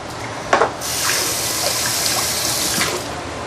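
Tap water runs steadily into a kitchen sink as green onion is rinsed under the stream, a close continuous splashing rush with a few louder spatters near the start.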